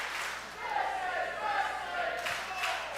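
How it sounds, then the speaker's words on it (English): Wrestling crowd at a live event roaring and shouting in a sustained, swelling wave, with a few louder rises near the end. It sounds fairly distant and fills the space without clear individual voices. "as you can hear the crowd"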